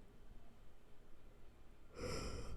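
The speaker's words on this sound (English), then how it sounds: "Sorry, I'm yawning." A person yawns aloud near the end, a single drawn-out breathy yawn that swells in loudness after a quiet stretch of soft room noise.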